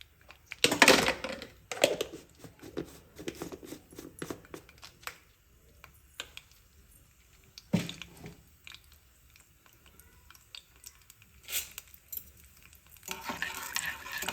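Urad dal, mustard seeds, cumin and chana dal hit hot groundnut oil for a pickle tempering, giving quiet intermittent crackles and pops with scattered ladle clicks and scraping, faint and close, with no talk.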